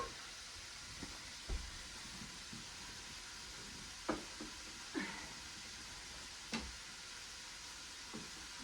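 Food browns in a hot pan with a soft, steady sizzle, quiet and close, punctuated by occasional light clinks and taps of a utensil stirring against the pan.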